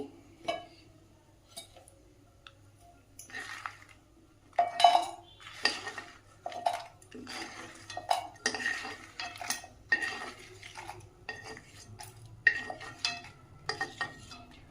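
Fried dried red chillies being moved from a pan into a bowl for urad dal chutney, heard as scattered close clinks and scrapes of a spoon against metal cookware over a quiet background.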